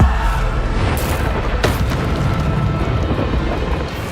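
Deep, loud booming explosions from the Bombarda spell in the video game Hogwarts Legacy, with a sharp blast near the start and a rumbling roar that carries through the rest.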